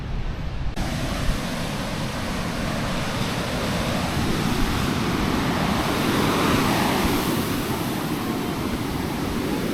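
Atlantic Ocean surf washes onto a busy Florida beach at Hobe Sound, a continuous loud hiss and roar of breaking waves that swells slightly midway, with no voices.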